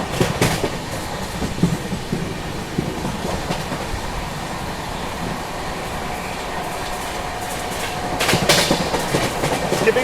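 Pune–Kolkata Humsafar Express running on the rails, a continuous loud rumble with rhythmic clickety-clack of wheels, heard from aboard, briefly swelling louder near the end.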